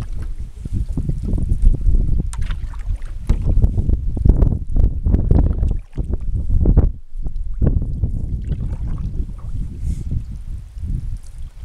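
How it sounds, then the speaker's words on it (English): A canoe is paddled across Rathburn Lake in wind, with heavy gusting wind noise buffeting the microphone throughout and irregular splashes and thumps of strokes mixed in, loud and close. "Just paddling across Rathburn Lake."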